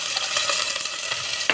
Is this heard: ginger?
yes